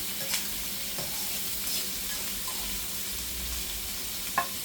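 About a tablespoon of garlic sizzles in a pot for a pot roast, a soft, steady hiss close by with a couple of small clicks near the end.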